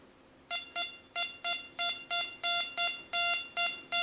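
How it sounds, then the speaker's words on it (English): A Rex Delta 4 metal detector sweeping over a Roman silver coin gives a run of about eleven loud, clear, evenly spaced beeps, each a bright tonal pulse, close and alone with no talking. "Beautiful, clear, loud beeping sound."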